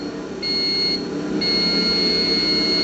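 A marine battery tester gives a steady high electronic beep that starts, pauses briefly, then resumes and holds. A low background hum runs underneath, and no one speaks.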